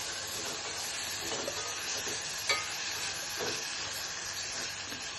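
Masala curry for biryani being stirred in a pan, a soft continuous sizzle and hiss with occasional faint scrapes of the spoon, fairly quiet and even.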